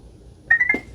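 An iRobot Roomba 694 robot vacuum gives a short sequence of three quick electronic beeps, clear and close, after a moment of quiet.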